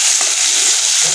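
Turmeric-coated food frying in a pan at home, a steady loud sizzle with brief stirring scrapes, no talking.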